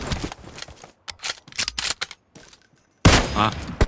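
Gunfire in the mobile game PUBG Mobile on the Livik map, irregular bursts of rapid shots with short gaps, ending in a louder, nearer volley.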